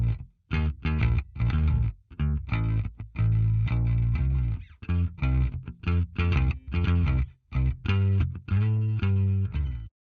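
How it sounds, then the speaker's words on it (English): Bass guitar playing a solo line of short plucked notes and phrases with brief gaps between, loud and up close with a gritty, slightly distorted tone, no other instruments or voices. "I've got a bass guitar that sounds like this"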